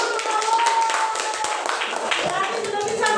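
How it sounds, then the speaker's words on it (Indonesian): Classroom applause with many hands clapping in a quick, dense patter, fairly faint and brief, with children's voices mixed in. "Tepuk tangan."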